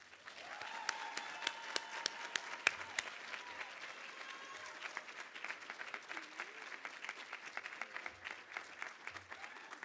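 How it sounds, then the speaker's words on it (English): A banquet audience at a student leadership recognition event gives a sustained round of applause, with many hands clapping steadily at a moderate distance and a few sharper individual claps standing out. "So please join me in giving a hearty round of applause to the members of Diversity"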